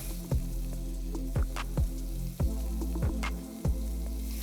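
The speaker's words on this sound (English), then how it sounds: "On a high flame, we need to sear the mutton for at least 3 to 4 minutes." Mutton with a high fat content searing in a pot over a high flame, a steady sizzle broken by periodic stirring scrapes and squelches about once a second, close and moderately loud.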